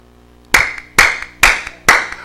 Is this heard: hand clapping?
yes